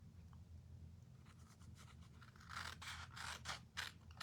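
Scissors snip through cardstock for a stamping layout, quiet at first and then several sharp cuts in quick succession near the end.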